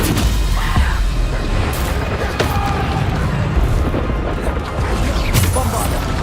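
Bombarda spell explosions in Hogwarts Legacy combat, a dense noisy stretch of booming impacts and crashes with several sharp hits, loud and continuous, with a voice talking over the battle.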